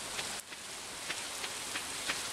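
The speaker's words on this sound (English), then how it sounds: "Oh, it's raining today, so we don't have to do crops." Rain falling in the farming video game Stardew Valley, a soft steady patter with a few faint distinct drops, quiet and continuous with no voices.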